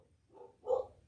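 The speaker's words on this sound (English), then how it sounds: "Sorry for the dogs." Dogs barking indoors, two short muffled barks a fraction of a second apart, the second louder, faint and somewhat distant.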